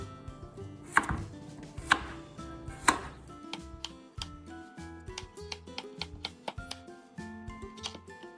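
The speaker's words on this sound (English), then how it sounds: "you're going to cut it in half lengthwise, and then you're just going to cut them into about half-inch" Knife chopping zucchini on a cutting board for rustic ratatouille, first a few heavy spaced cuts splitting it lengthwise, then a quicker steady run of crisp close taps slicing half-moons.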